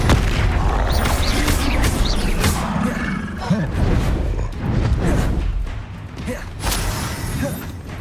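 Bombarda explosion spells cast in Hogwarts Legacy combat, a loud dense barrage of booming blasts and crackling impacts with game music and effects underneath, continuous for the whole stretch.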